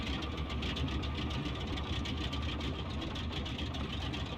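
A Boeing 247D's radial engine idles in the Wing42 flight simulator game, a loud, steady, rough mechanical drone with a dense rumbling texture that continues without a break.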